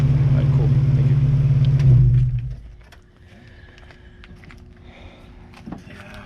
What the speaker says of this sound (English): What exhaust is that? It's pretty loud.